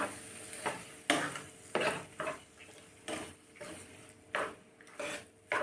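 Spoon scraping and stirring through curd and chillies in a pan, a series of distinct rhythmic scrapes and clinks close by, with no talking.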